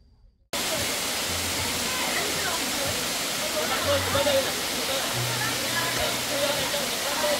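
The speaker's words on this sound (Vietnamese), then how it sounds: "đây là thác cổng trời" A waterfall, the Cổng Trời falls at Thiên Sơn Suối Ngà in Ba Vì, Hanoi, roars in a steady, loud, broadband rush that begins abruptly after a brief quiet moment and carries on unbroken, with faint low hums beneath it.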